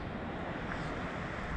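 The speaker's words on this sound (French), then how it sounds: "Et alors regardez le vent qu'il y a. Regardez le vent qu'il y a. C'est impressionnant." Strong wind gusts blowing steadily past a wall outdoors, a dense continuous roar with low rumbling buffeting close to the microphone, no voices.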